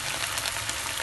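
Chili peppers frying in oil in a pan for tuna sisig, giving a brief, steady close-up sizzle with soft crackles throughout.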